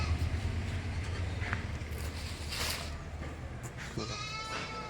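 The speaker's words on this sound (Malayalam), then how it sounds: "നല്ല പാലുള്ള ഒരു മലബാരി ആട്" A Malabari goat, a good milking doe, bleats a few times at a livestock market, moderately close and fairly quiet over a steady low background hum.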